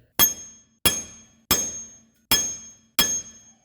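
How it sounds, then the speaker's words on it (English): Five sharp metallic hammer strikes on a steel bar ring out one after another at an even pace, each blow ringing briefly before fading, while freeing a 2012 Subaru Impreza rear wheel hub. "So what we do is give it a few whacks and hope that it starts moving."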